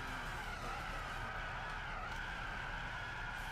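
A car in the Gran Turismo 6 racing video game skids with a continuous tire squeal and engine noise, steady and moderately loud for a few seconds with no talk.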